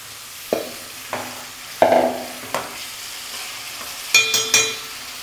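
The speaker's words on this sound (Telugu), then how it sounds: "ఇందులో చికెన్ లెగ్ పీసెస్ వేసుకుంటున్నాను" Chicken leg pieces sizzle in hot oil in a pan. Several sharp hissing bursts and soft clatters come at irregular intervals, close and fairly quiet.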